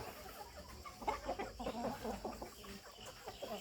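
Burmese fighting chickens, hens and young birds, cluck in a loose, uneven series close by, with soft background noise and no talk.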